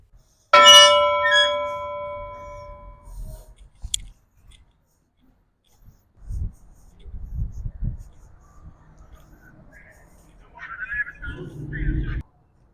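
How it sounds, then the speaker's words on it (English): A memorial bell outside a county courthouse is struck once, ringing out loud and clear with a long fading hum, followed by footsteps, light handling noise and quiet voices nearby. "Well, you know we gotta ring that bell."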